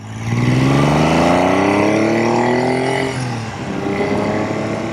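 A Triumph T160 Trident three-cylinder motorcycle revs hard close by, its engine note climbing steadily in pitch, then dropping and picking up again as the throttle is rolled off and reopened, loud and continuous with no talk.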